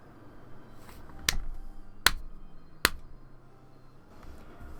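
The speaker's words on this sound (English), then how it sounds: "That extremely unflattering applause was coming from Bern Castell" A game sound effect from Umineko no Naku Koro ni Chiru plays three slow, sharp, isolated claps, evenly spaced and crisp, over a quiet low background hum.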